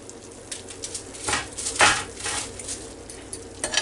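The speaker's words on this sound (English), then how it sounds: "The lid back on it just so it'll stay warm" A metal lid set back down onto a pot of cooked rice, a single brief clink standing out amid faint kitchen clatter and small handling knocks.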